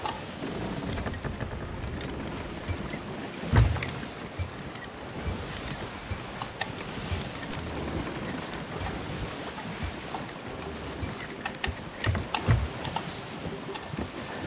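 A ship sailing on the open sea in the Sea of Thieves video game, steady wash of waves and wind around the hull with occasional creaks and thumps, continuous and moderately loud without talk.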